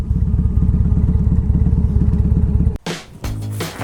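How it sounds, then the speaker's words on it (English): A 2002 Harley Davidson touring motorcycle engine idling close by with a loud, steady, lumpy potato-like throb, cut off near the end by a sudden change to other noise. "Test drive 2002 Harley Davidson. It runs good. Fired up nice."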